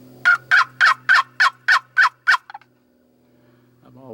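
A wild turkey gobbler gobbles loudly in a rapid run of about eight pulses, followed by a couple of short clucks and a faint distant call in quiet surroundings.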